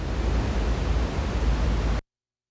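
Broadband noise waveform from one corner of a vector synthesizer, a steady hiss like surf or static held for about two seconds, then cutting off abruptly into silence.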